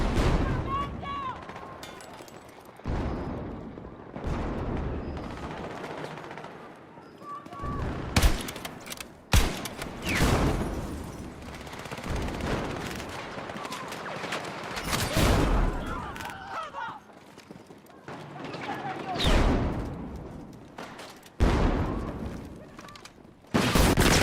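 Repeated loud shotgun blasts from a fire shotgun in a first-person shooter game, sharp broadband bursts spaced irregularly across the clip with some speech mixed in.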